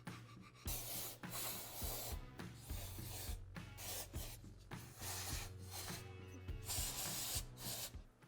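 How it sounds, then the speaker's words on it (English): Contact cleaner is sprayed and a rag rubbed over the clutch surface of a Kawasaki KX85/KX100 dirt bike, heard as repeated close hissing spray bursts and brisk scrubbing strokes, quiet and close, with no talking. "we're going to use contact cleaner and a rag to clean that surface"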